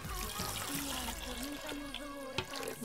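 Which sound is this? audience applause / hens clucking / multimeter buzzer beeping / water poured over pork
water poured over pork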